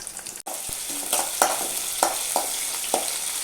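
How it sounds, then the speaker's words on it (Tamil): Dried red chillies sizzle in hot oil with a steady crackling hiss, broken by several sharp stirring scrapes at an even pace; no one speaks. "வத்தல் மிளகாய் வத்தல் எண்ணெயில் பொரிய விட்டுருக்குறாங்க"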